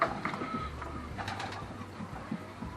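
Roller pigeons coo softly in a loft, with several low, throaty calls at a moderate distance over faint background noise.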